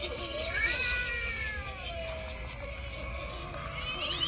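A black cat Halloween animatronic prop in a retail store gives a long, drawn-out meow that rises and then slides down, heard over busy store background noise.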